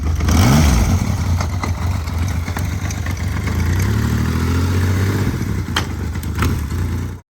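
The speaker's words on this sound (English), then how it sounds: "With this bike we have the problem that there's a rattling noise in this area." A Yamaha XS850 three-cylinder motorcycle engine runs loudly and steadily close by, with a brief rev at the start and a rattle that may come from the chain linking crankshaft and gearbox or from out-of-sync carburetors.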